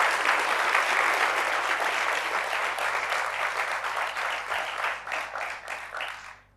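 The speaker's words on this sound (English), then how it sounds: "I think we should give them a warm round of applause." An audience at a G20 India event claps in a warm, sustained round of applause that holds steady, then thins and fades out over the last seconds.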